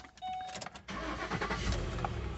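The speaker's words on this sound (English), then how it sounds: "you start the vehicle" A 2007 Ford Sport Trac with the 4.6 engine starts up: a brief starter crank, then the engine catches and settles into a steady, fairly loud idle, heard close up with no talk.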